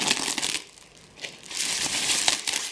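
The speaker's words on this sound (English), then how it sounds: "Be careful not to cut through the bubble wrap" Scissors cutting sticky tape on bubble wrap packaging, close crinkling and crackling of the plastic in bursts with a brief lull in the middle.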